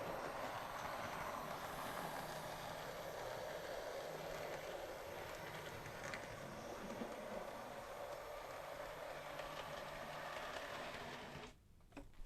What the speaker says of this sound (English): a train will run along behind me down to that end and stop